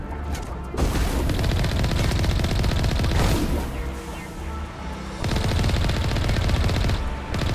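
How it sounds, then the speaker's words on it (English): Gunfire in the video game Mass Effect crackles in dense, rapid bursts, loud and sustained with brief lulls, with no talking over it. "Stop firing at me."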